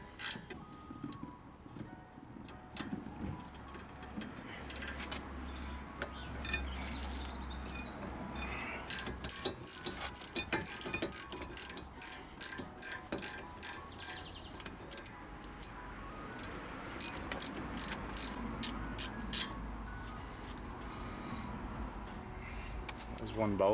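Ratchet clicks loosening the rear brake caliper bolts on a Ford Mondeo, a quick run of sharp ticking bursts between pauses amid workshop background noise.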